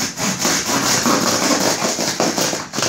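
Rapid back-and-forth strokes of a Silky BigBoy 360-10 hand saw rasp through a package, loud and close, in a steady rhythm with no voices.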